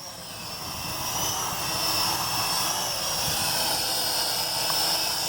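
Propellers of a World Tech Elite Venom Pro GPS drone spin with a steady high-pitched whine and broad airy rush, close and constant throughout, with no speech.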